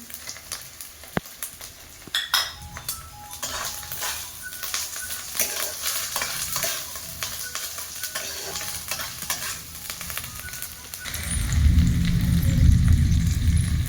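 Tomatoes tip into ginger frying in oil for a Bengali village-style mutton and potato curry, giving a sudden loud, dense sizzle near the end after a stretch of quieter stirring and scraping in the pan.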